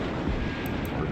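Artillery bombardment in Sudden Strike Gold, a dense, rumbling roar of blasts washing together, loud and continuous over a brief stretch.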